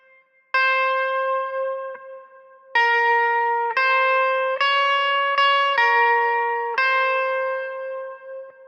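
An electric guitar plays a song with distortion, ringing out a series of sustained, effect-laden notes and bends, each struck loudly and left to decay, played alone without talk.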